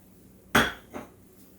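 Ingredients for beef enchilada sauce being mixed together in a kitchen, heard as two sharp clinks of a utensil against a container, the first louder, the second softer, in an otherwise quiet room.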